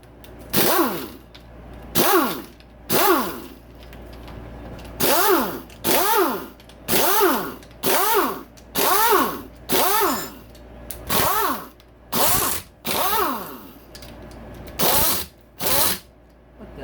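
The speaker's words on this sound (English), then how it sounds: "time to take off the stator cover here." Power tool spinning out stator cover bolts on a 2009-2025 Yamaha YFZ450R engine during a rebuild, about a dozen loud close bursts of whirring with rising-falling pitch, each a second or so long, separated by short pauses.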